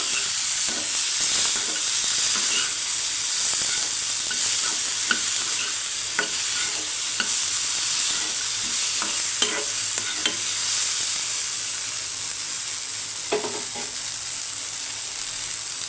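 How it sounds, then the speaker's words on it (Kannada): Cumin seeds roasting in a pan for a ridge gourd gravy, heard as a steady bright sizzle with scattered stirring scrapes and clicks throughout, close and continuous without speech. "ಹಾಗೆ ಒಂದು ಅರ್ಧ ಟೀ ಸ್ಪೂನಷ್ಟು ಜೀರಿಗೆ ಹಾಕ್ಕೊಂಡು ಸ್ವಲ್ಪ ಹುರ್ಕೋಬೇಕು"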